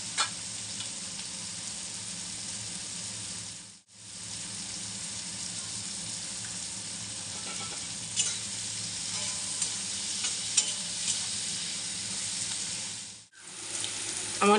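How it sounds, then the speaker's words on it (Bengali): Sliced onions frying in a pan for a chicken curry, a steady close sizzle with stirring scrapes throughout, broken by two brief near-silent gaps. "আমার পেঁয়াজটা লাল লাল করে ভাজা হয়ে গেছে।"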